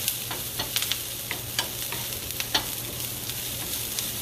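Food sautéing in a pan, a constant crackling sizzle with quick repeated clicks and scrapes of a stirring utensil, close and moderately loud, no speech.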